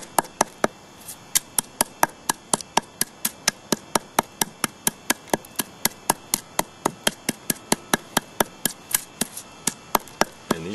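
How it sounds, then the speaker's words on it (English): Flint flakes being crushed into small pieces with a hard striker, a steady run of some thirty sharp, evenly spaced knocks at close range with no talk. "You just want to bust up these flakes until they're pretty small"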